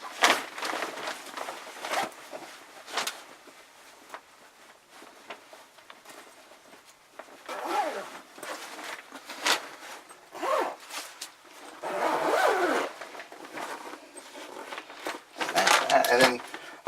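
Zipper on the storage bag of a Novaform roll-out lounger, heard as a series of quick rasping zip pulls and short bursts spread through the clip, with brief handling pauses between them and a person talking in between.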